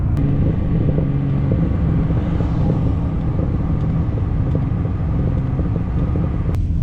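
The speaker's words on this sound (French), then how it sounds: "je ne sais pas si vous entendez, mais c'est assez plaisant à entendre, c'est le silencieux que j'ai enlevé dessus" A 2011 BMW 328 with its muffler removed runs with a loud, deep, steady exhaust rumble heard up close, without any speech.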